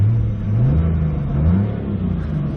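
A 2016 BMW M3's engine revs while parked, a loud, close mid-pitched growl whose pitch climbs and falls in two swells before settling, with no talking over it.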